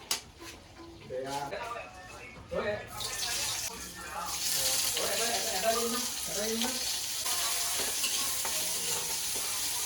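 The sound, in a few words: potatoes frying in oil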